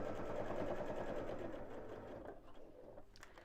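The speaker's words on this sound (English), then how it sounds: "Needle down. Carry on sewing." Domestic sewing machine stitching fabric at a steady pace, a rapid mechanical whirring chatter that is close and even, slowing and stopping toward the end with a few separate clicks.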